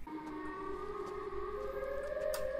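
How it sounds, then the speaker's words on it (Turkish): Siren Head's wailing sirens in a horror video game, several long steady rising tones layered together, sounding continuously and fairly loud with no talk over them. "Sirenleri de galiba salmaya başladı da."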